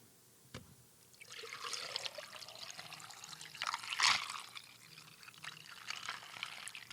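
Drinking water is poured into a container in a steady trickling stream that rises and falls, with a brief clunk near the start and a louder splash about midway.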